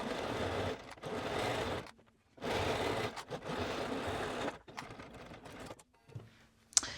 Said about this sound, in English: I'm going to go to the machine and we are going to sew this with a 3/8 inch seam allowance.